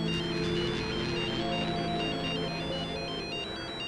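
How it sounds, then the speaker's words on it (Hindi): A phone ringtone plays continuously, a steady electronic melody ringing loud and close with no talking. "तो उसी लड़की का फोन आ रहा है"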